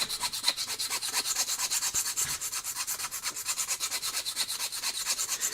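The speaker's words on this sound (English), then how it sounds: "So I'm going to continue filing away." A file rasps back and forth across a plastic model kitbash part for a three-wheeler vehicle. The close, steady strokes come in a quick, even rhythm.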